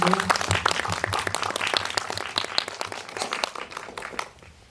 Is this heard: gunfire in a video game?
no